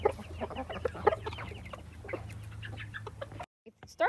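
Silkie chickens cluck and chatter close by in a busy stream of soft clucks over a low hum, then a brief quiet gap before a few more clucks.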